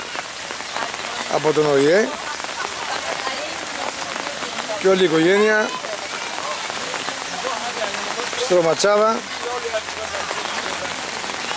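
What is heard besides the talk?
rain falling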